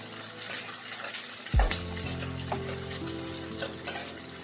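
Onions hit hot oil for a bitter gourd curry, a sudden loud sizzle bursting in after a quiet start, then steady close frying with light stirring clinks.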